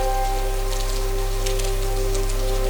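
Steady rain falling outdoors during a mountain trail run in Colombia, a continuous wash of drops with a constant low hum underneath, no voices.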